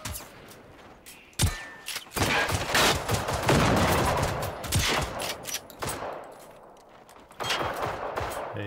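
Rifle gunfire in Generation Zero, a rapid series of loud close shots in bursts with short gaps, then a few more scattered shots toward the end.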